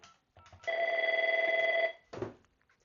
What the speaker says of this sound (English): when I dial 200, all of these phones will ring